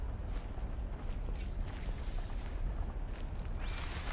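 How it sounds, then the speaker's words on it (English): A distant explosion rumbles in the video game Horizon Zero Dawn, a low booming roar beneath steady ambient noise, with a couple of sharper bursts near the middle and end. "Did you hear that explosion?"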